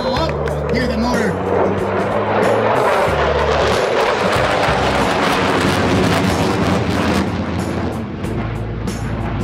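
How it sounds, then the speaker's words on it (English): Model aircraft motor at an RC airshow, FliteFest Ohio 2018, a loud continuous buzzing roar with pitch shifts as it passes, mixed with crowd noise and voices. "Oh, hear the motor."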